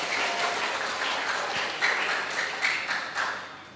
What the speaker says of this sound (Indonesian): Tepuk tangan semua buat vokal grup yang baru.